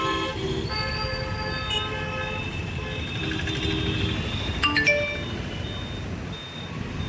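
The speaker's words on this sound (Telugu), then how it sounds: "ట్రాఫిక్ ఫుల్గా ఉందిగా" Busy city road traffic with car horns honking repeatedly, several long and short toots over a steady rumble of passing vehicles, near and fairly loud.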